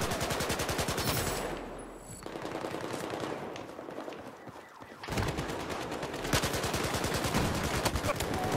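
Rapid gunfire in a Battlefield 4 multiplayer match on a Domination map, dense bursts of automatic shots near and loud, a brief quieter lull midway, then volleys resuming, with a voice talking now and then.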